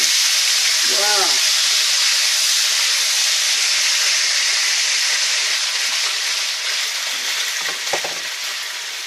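Meat sizzling loudly as it drops into hot oil in a deep saucepan, a steady bright hiss that holds throughout, with a couple of brief clanks of utensils and a short voice near the start.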